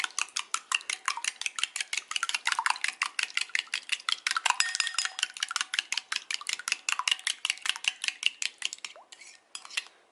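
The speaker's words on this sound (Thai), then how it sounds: "ตีน้ำตาลให้ละลายก่อนนะคะ" A whisk beats sugar in a container to dissolve it, giving a steady run of quick, even metallic clinks and scrapes that continue for the whole stretch, close and fairly loud with no talking.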